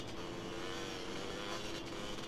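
A car driving in the video game DayZ on the Chernarus map, a steady engine drone with road noise that holds without a break, loud and alone with no talk over it.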